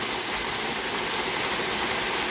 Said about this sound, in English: It's a bit small waterfall,